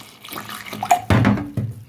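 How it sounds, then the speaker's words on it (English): Water is poured into a pot of Spanish fry fritter batter in a Jamaican home kitchen, a short gurgling splash that swells partway through and runs for about a second, close and fairly loud. "So I'm going to add some water to it."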